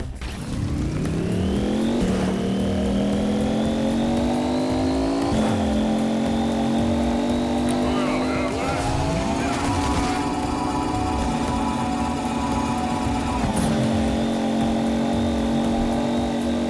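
A futuristic car engine in Fortnite, a loud synthetic whine that climbs steadily in pitch through repeated gear shifts, dropping and rising again several times over a continuous, close, unbroken drone.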